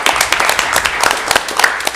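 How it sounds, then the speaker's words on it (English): A school board meeting audience gives a student group a loud, dense round of applause, with many close hand claps crackling together across the whole stretch. "One last applause for"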